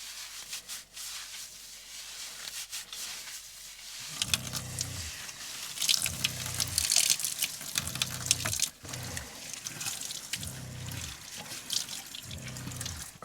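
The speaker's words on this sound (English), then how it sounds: "take a quick head shower in the sink" Water runs from a sink tap in a van during a quick head wash, with a steady rushing stream, rubbing scrubbing sounds and a low regular thumping pulse, with no talk.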